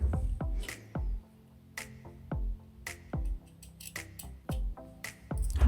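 Fabric scissors snip clipped notches into a seam allowance while a traditional Korean baby jacket is sewn, a crisp run of roughly a dozen close, sharp cuts at an uneven pace.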